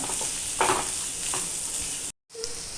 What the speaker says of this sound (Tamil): தேவையான அளவு மஞ்சள்தூள் சேர்த்து நல்லா வதக்கிக்கோங்க